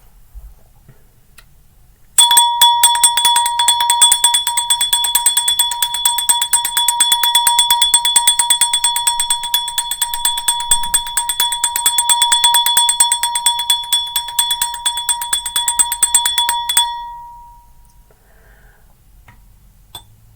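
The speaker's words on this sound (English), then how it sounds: "I will ring the bell" A bell rings close and loud in a rapid, steady, continuous ringing for about fifteen seconds, then fades out into quiet.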